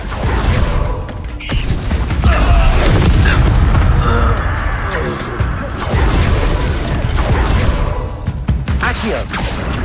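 Spell-casting combat in Hogwarts Legacy, with an Incendio fire blast among loud, continuous booming and mechanical clanking effects while a voice shouts over them.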